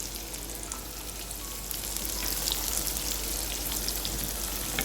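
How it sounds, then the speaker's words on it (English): Finely chopped onion sautés in a pan for a mushroom masala, giving a steady, soft crackling sizzle that grows slightly fuller partway through, with no talking. "saute this till these onions become really brown"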